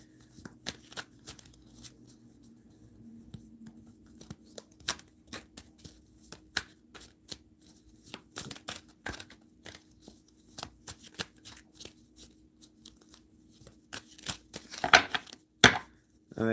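Cards are shuffled over and over, a long run of soft irregular flicks and riffles that grows busier and louder near the end.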